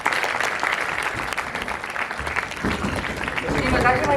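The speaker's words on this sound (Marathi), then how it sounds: "एकदा जोरदार टाळ्या." Audience applause at the Marathi Indie Music Awards ceremony: a dense, steady wash of clapping across the hall that swells louder toward the end, with a voice audible over it.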